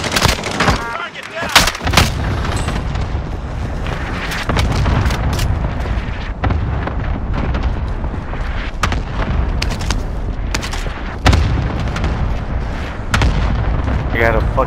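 Rapid bursts of gunfire and heavy booms fill a Call of Duty: Modern Warfare match, loud and dense throughout with overlapping shots, explosions and occasional voices.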